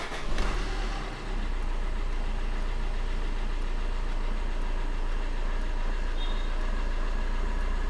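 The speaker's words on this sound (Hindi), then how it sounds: "अब इंजन ऑन करते हैं।" A Maruti Suzuki car engine turns over and settles into a steady, close idle, a constant low rumble that runs unbroken after a brief louder start.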